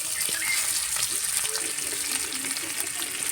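Fish pieces coated in masala frying in a little oil in a pan, giving a steady close hissing sizzle with soft bubbling crackle throughout, no talking.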